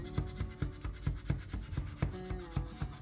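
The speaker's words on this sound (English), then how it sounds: "And then we're going to scrape it with the scraper here." A scraper drags over coconut and soy wax as it sets, giving a steady rhythm of short rasping strokes, close and fairly loud, roughly four per second with no voices.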